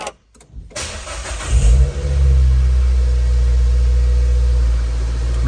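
A Nissan Cube 1.6 engine cranks, starts and settles into a steady, loud low idle after a filter and spark plug service, running continuously close by.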